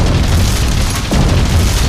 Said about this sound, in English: Why did tents explode?